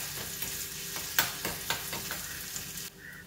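Vegetables for a moringa-leaf dal curry being stirred in a pan, soft scraping strokes over a continuous hiss of frying, close but fairly quiet, with no talking.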